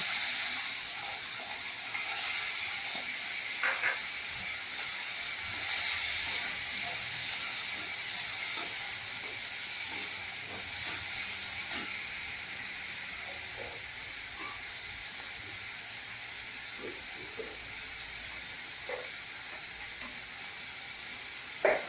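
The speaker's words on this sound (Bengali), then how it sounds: "এবার আমি চিংড়ি মাছটা ভেজে নেব।" Prawns frying in hot oil for potol chingri, a continuous hissing sizzle that holds steady at moderate volume for over twenty seconds, dotted with faint pops and crackles, no speech.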